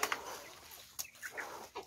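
Chickens cluck in a few short, scattered bursts, fairly faint and close by, with quiet gaps between calls.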